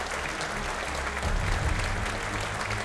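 Applause for a finalist at the EY Entrepreneur of the Year 2024 awards ceremony, a sustained dense clapping from a large audience, steady and fairly loud throughout.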